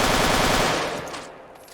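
Heavy machine gun fire in the video game RMC-14, a dense continuous rattling burst, loud and close at first, then trailing off into a fading echo.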